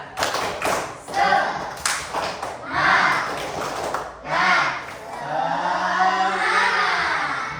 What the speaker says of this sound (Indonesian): Kalau bisa coba kita tepuk semangat dulu sebelum memulai pelajaran.